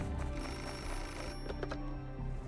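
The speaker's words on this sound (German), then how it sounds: "The bell rings, da, das Telefon." In the video game Beholder, a telephone rings faintly under steady background music with sustained tones, its bell pulses emerging briefly midway through.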